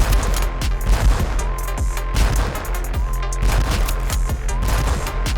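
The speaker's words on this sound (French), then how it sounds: "Il tire 3 balles nerf à la fois." Nerf blaster loosing three foam darts at once during a LEGO boat destruction test, heard as dense, sharp popping bursts that repeat in quick succession throughout, loud and close with no talking.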